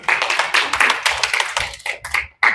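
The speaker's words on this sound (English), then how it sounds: "According to the volume of your clapping" Audience clapping in a hall, a series of close, uneven bursts of applause that rise and fade in waves, with short pauses between them and one final burst after a brief silence.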